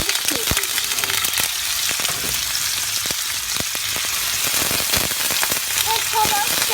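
Lamb tail fat and chunks of meat fry loudly in a pan, a dense continuous sizzle with crackling pops throughout and a few faint background sounds.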